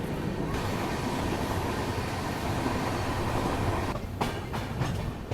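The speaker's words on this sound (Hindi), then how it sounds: "यहाँ से निकल चुकी है अपनी ट्रेन।" A passenger train pulls out of Banasthali Niwai station after rain, its wheels and cars rumbling with a steady clickety-clack that continues throughout, with a few brief gaps near the end.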